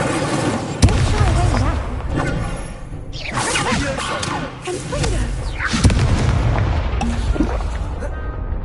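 Hogwarts Legacy spell combat with the Incendio fire spell, repeated booming bursts and whooshing blasts amid clashing effects, loud and dense, while a player's voice speaks over the action.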